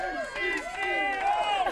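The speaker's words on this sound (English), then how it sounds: "We have a crowd cheering them on." A crowd in Ortonville cheers and whoops, with several excited voices overlapping in rising and falling shouts, loud and close throughout the short burst.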